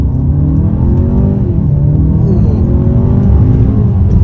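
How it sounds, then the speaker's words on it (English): A 2022 Hyundai Santa Fe Calligraphy SUV's engine roars steadily as it accelerates hard from a standstill in sport mode, the drone rising in pitch with a constant rumble throughout. "try an acceleration off the line"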